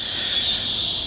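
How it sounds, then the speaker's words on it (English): Loud cicadas buzz in a continuous, even, high-pitched drone on a hot day outdoors, filling the whole brief moment without pause. "excuse these cicadas, locusts, whatever you want to call them, they're loud"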